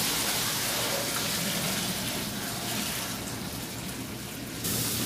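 Steady rushing mash water for home-brewed porter pours continuously, a full broadband gush like liquid running into a vessel, loud and close with no talking.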